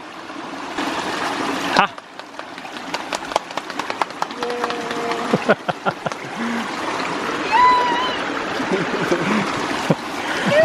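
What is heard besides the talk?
ram pump cycling, filling pressure tank with water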